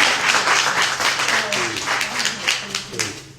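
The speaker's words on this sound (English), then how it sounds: "Can we give our moderator a round of applause" A small audience at a gallery artist talk claps for the moderator, a loose, uneven patter of hands that swells and dips, with scattered voices underneath.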